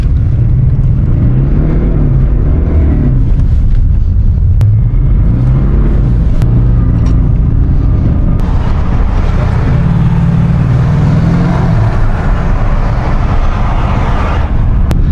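A Maserati Ghibli with its original exhaust accelerating, a loud, deep engine drone rising and falling through the gears, heard continuously and close, as if from inside the car.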